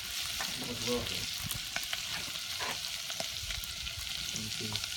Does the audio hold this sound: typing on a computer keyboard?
no